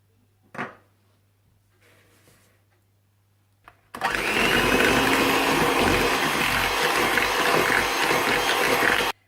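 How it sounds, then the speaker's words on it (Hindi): An electric hand mixer beats butter and caster sugar for lemon cupcakes, running as a loud, steady whirring drone for the last five seconds. Before it starts there is a quiet pause with one knock and a rustle. "आप इसमें कैस्टर शुगर डाल दें और बीट कर लें ताकि ये अच्छा सा लाइट और क्रीमी सा हो जाए।"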